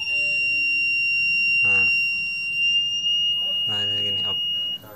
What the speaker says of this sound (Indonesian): Nah, terdengar suara buzzer.